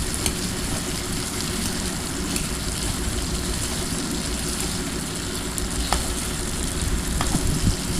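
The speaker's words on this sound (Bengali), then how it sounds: "আর সিদ্ধ করে রাখা আলুগুলো দিয়ে দিলাম। আলুগুলো ভালোভাবে ভেজে নেব" Boiled potatoes fry in hot oil in a pan for a potato curry, a steady dense sizzle that stays loud and close throughout, with a few soft scraping stirs near the end.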